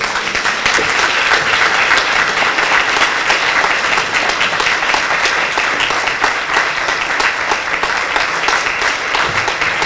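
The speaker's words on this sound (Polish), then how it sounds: "Ale to gorące brawa." An 80th-anniversary concert audience for a mixed choir in Mielec gives loud, sustained applause, a dense wash of many hands clapping evenly throughout.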